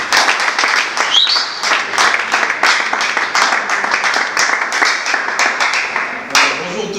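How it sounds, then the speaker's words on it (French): Audience applause at a youth artists' association gathering in Congo, loud close clapping with distinct sharp individual claps standing out over a dense wash, continuing steadily for several seconds. "Sous vos applaudissements, bien sûr."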